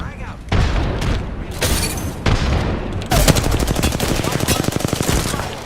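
Rapid gunfire and a booming grenade blast in a battle-royale shooter game, loud bursts of shots building into a dense rattling volley near the end, with players talking over the action.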